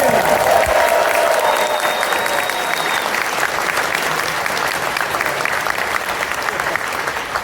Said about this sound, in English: if you could just give Haps a huge round of applause.